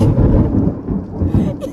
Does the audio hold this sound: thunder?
yes